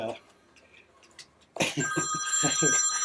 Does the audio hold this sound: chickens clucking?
no